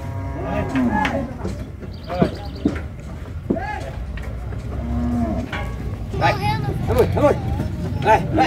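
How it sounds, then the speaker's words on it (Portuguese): Cattle low repeatedly as a herd is unloaded for a livestock fair in Tabira, Pernambuco, with several moos at varying distances mixed with the bustle of the yard, while someone talks throughout. "Olha aí, pessoal, que boi lindo."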